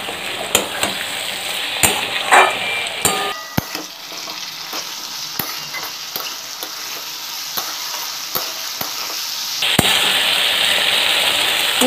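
Chili fish frying with capsicum and green chilies in a hot pan gives a loud, close sizzle broken by repeated sharp clacks of a spatula against the pan, with bursts of louder hissing.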